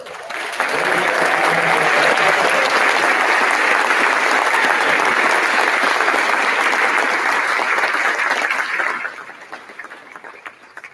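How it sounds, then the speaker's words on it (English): A room full of people breaks into loud, sustained applause that holds steady for several seconds, then thins out and fades near the end. "Please give a round of applause for her."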